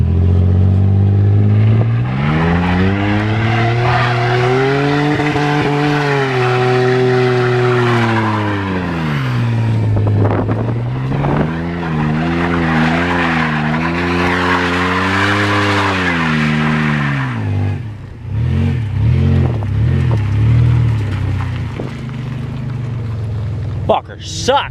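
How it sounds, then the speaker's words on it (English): A car doing donuts: the engine revs rise and fall in long sweeping cycles while tires skid and squeal continuously, loud and close, with a brief easing before another round and a voice heard under the noise. "Alright, maybe we'll just do some donuts."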